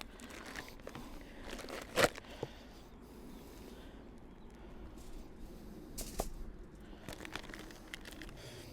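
Plastic packaging on a 21-day matured bone-in sirloin steak is opened by hand without scissors. There are quiet crinkles and rustles, with one sharper tear-like crackle partway through and another small burst later.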